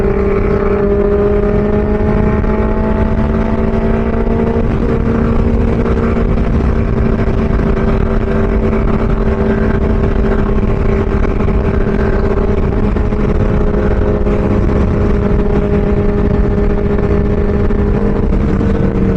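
Superbike engine riding at speed with a pillion passenger and luggage strapped on, a steady loud drone with wind rush filling the whole stretch, no voices.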